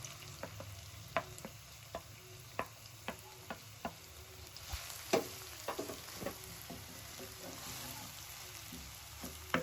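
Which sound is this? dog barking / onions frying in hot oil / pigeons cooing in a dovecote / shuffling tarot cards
onions frying in hot oil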